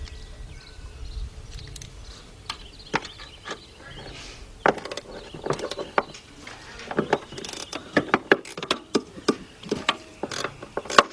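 Wrench work on a bolt during alternator replacement on a Chevy Impala or Monte Carlo, with irregular metallic clicks, ratcheting and knocks at close range, growing busier toward the end, with no talk over it.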